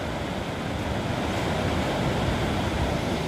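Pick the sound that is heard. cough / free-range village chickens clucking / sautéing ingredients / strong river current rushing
strong river current rushing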